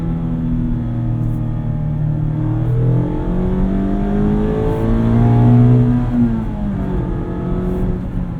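A 2019 Mazda MX-5 Miata RF Grand Touring engine climbs steadily toward redline, a loud, close, rising drone heard from inside the cabin, with the pitch sweeping up through the gears and briefly dipping at shifts.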